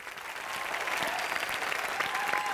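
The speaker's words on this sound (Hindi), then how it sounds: "तालियां" Studio audience applause on a Hindi comedy show stage, a steady dense wash of many clapping hands, moderately distant and even throughout, with faint voices mixed underneath.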